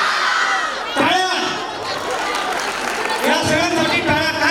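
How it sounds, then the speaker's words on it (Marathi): Audience applause at a Makar Sankranti community Home Minister event, a sustained patter of clapping mixed with crowd chatter, cheers and loud voices throughout. "या सगळ्यांसाठी टाळ्या"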